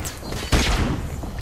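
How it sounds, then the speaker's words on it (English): A flashbang grenade detonates in Call of Duty Modern Warfare Remastered, a single sharp, loud burst with a heavy low thump that rings out briefly amid ambient game noise. "Flashbang now."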